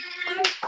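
Children at a church children's club clap their hands while singing, with a couple of sharp, close claps cutting through a sustained sung voice.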